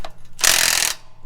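Tool tightening loose fittings on farm equipment, a short close burst of rapid ratcheting clicks lasting about half a second.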